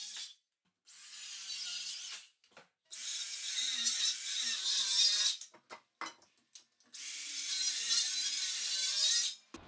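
A power saw cutting through a floor being repaired before carpeting. Three loud, high whining cuts run for a few seconds each, separated by short silences and brief clatter, all close by with no voices.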